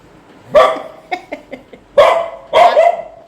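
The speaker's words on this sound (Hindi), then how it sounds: "भावरो कुत्ता है कतई।" A dog barks near the microphone in a home, giving several loud sharp barks separated by short gaps, with softer yips between them.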